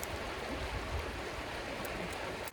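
A mountain creek runs steadily and loudly where a freshly caught trout is being rinsed, its broad, unbroken rushing wash filling the whole moment with no voices.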